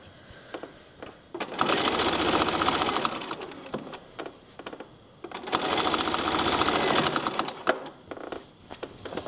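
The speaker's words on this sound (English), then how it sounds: "Just keep on sewing along." A sewing machine stitches quilt binding in two sustained runs of rapid, steady whirring, each lasting a few seconds, with quiet pauses and small clicks between them.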